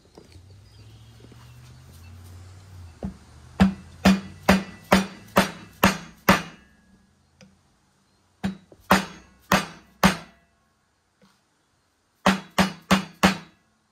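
A bearing race is hammered into a trailer hub with a Mac Tools driver kit, giving close, ringing metallic blows in three quick bursts of steady strikes with short pauses between.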